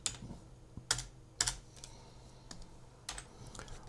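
Keys tapped on a computer keyboard during 3D software work, a handful of separate clicks and a couple of sharper keystrokes spaced irregularly over a quiet room background.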